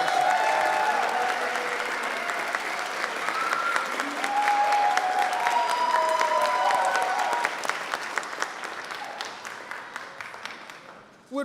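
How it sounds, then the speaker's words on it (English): Sustained audience applause at a graduate school awards ceremony, a dense wash of clapping from a large crowd that holds steady for most of the span before thinning out toward the end, with faint musical or tonal sounds drifting underneath. "Please join me in a round of applause in recognition of the distinguished graduate students"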